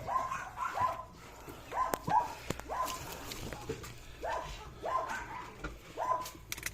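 Dog barking in short, repeated bursts, roughly eight sharp barks in an uneven rhythm at moderate distance, with a quiet outdoor background between them.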